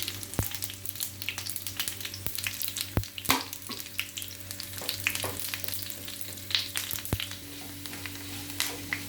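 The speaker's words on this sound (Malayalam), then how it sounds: "അരിയെല്ലാം പൊരിഞ്ഞ് വരുന്നു," Raw rice fries in hot oil with dried red chillies and curry leaves for a pumpkin skin thoran, a dense continuous sizzle broken by sharp crackles and pops, close and loud, with no talking.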